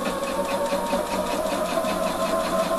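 A sewing machine runs steadily while stitching a bust welt pocket on a menswear garment, giving a continuous, close mechanical whir with a fine rapid rhythm and no pauses.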